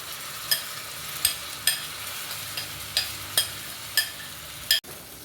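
Mango pieces with salt being stirred in a hot clay pot, giving soft sizzling under regular spoon scrapes that recur about every second, close and fairly quiet, with no talking.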